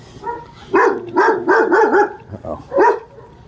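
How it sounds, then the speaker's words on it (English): A dog barks in a dim alley in Belleville, five or six sharp close barks in a quick run followed by a softer yip and one last bark. "uh-oh, there's a dog."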